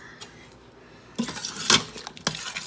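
A spoon scrapes and clinks against the metal of a pressure cooker pot holding beef and broccoli, in a few short, close knocks after a quiet first second.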